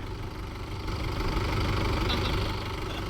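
A stuck tractor's engine runs continuously at a steady, loud, low rumble with a slight knocking texture while it is pulled out without its top link.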